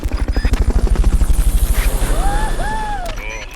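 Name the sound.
Fulton recovery helicopter in video game Metal Gear Solid: Peace Walker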